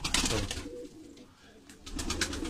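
Tumbler pigeons coo in soft, repeated bursts close by, with a brief quieter lull in the middle before the calls pick up again.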